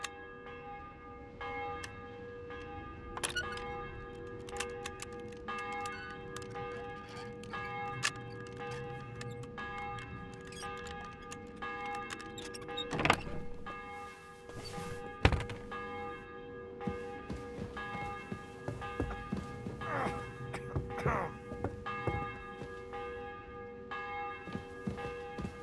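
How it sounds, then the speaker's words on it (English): A church bell in the medieval world of Kingdom Come: Deliverance 2 tolls repeatedly, its long ringing tones overlapping and sustaining over 25 seconds alongside faint clinks and background activity. "The bell's ringing for Hans the 5th time."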